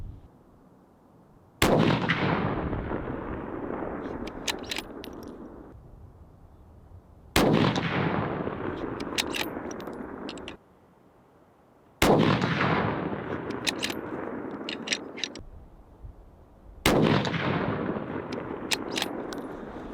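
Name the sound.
Howa 1500 rifle shots fired at target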